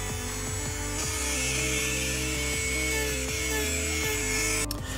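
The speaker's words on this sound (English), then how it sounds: "So now with my rotary tool and sand these edges." A rotary tool sands the edges of an Aliens chestburster model, a loud continuous whirring grind with repeated pitch dips as the bit presses into the material, close and without talk.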